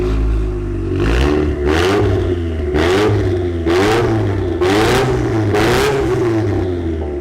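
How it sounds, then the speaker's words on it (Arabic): A Nissan Silvia S15 with a turbocharged SR20DET engine revs hard about six times in quick succession, each close, loud blip rising and falling with turbo whoosh and blow-off between, alone without talk. "صوت الاس ار 20 دي اي تي مع التربو الجديد وصوت التفريغ"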